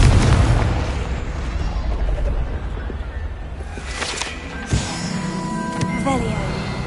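Confringo spell explosion in a Harry Potter-style wizard video game, a deep booming blast at the start that rumbles off, followed by lighter pops and magical effects, with a voice speaking over it.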